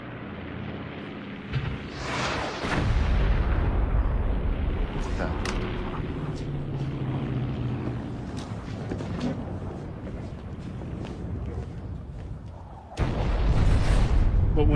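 Explosions at an ammo dump in an action movie scene: deep booming blasts and rumbling bursts, a heavy one near the start and another near the end, with a voice speaking briefly amid the din.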